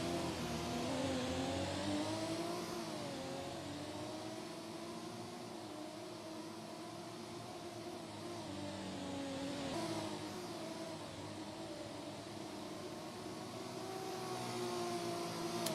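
Lamborghini racing car engines in a sim racing game during an endurance race at Suwon, a steady whining engine drone holding throughout with gentle pitch shifts as the cars run.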